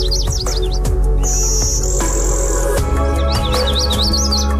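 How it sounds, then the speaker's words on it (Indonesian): Songbirds chirp and tweet close by in rapid repeated trills, with a sustained high whistle in the middle, over a steady low background hum. "Mendengar kicauan mereka seperti serasa di surga ya pemirsa"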